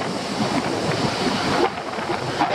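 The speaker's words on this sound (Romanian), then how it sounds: "Ce frumos vine apa." Sea waves roll and break on the beach at Eforie Nord, Romania, a steady close wash of surf with wind noise across the microphone and no speech.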